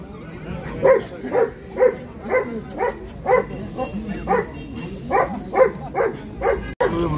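Puppies at an outdoor dog market in Shymkent yelp and bark in a steady run of short, close calls, roughly one or two per second, with a faint voice and crowd murmur beneath.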